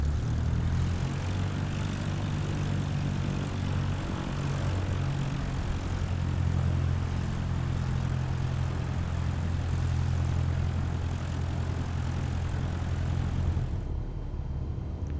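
An airplane taxiing to parking in Microsoft Flight Simulator gives a steady, loud propeller engine drone that runs unbroken and cuts out near the end.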